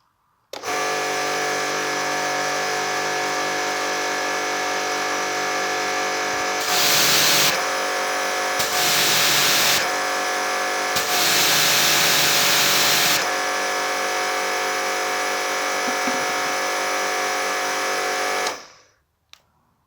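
A Karcher pressure washer, checked for an engine that won't switch off, runs steadily and loudly for the whole stretch with a dense mechanical drone. Several brief surges of heavier spray noise break in before it cuts off near the end.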